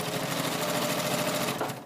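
A sewing machine runs steadily while stitching a baby buggy seam, a fast, even mechanical whirring and needle chatter, close and continuous with no talk.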